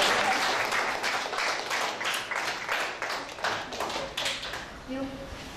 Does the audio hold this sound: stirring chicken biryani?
no